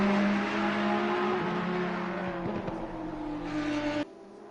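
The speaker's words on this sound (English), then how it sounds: "You can just hear the screaming V10 of the Audi in the back" Audi V10 race car engine in a PS4 racing game at Laguna Seca, a sustained high-pitched engine scream running steadily and loudly, with other race cars around, before cutting off abruptly near the end.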